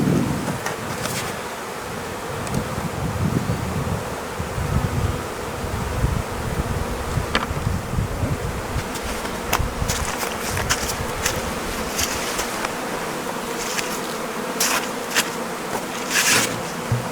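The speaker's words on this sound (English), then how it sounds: "you don't want to crush any of the little bees flying around" Honey bees buzzing around an open hive during installation, a close continuous drone with individual bees zipping past the ear, plus occasional knocks and handling sounds.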